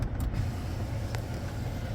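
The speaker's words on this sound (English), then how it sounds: "opens up that back window" Power rear sliding window on a 2015 Chevy Silverado LTZ Z71 pickup opening, a steady low electric motor hum that runs the whole time, close by, with no talking.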